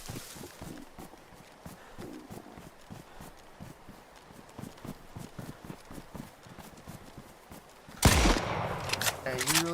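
Gunfire in the video game DayZ on the snowy Namalsk map, a long run of small rapid cracks and thuds with footsteps mixed in, then a louder burst near the end.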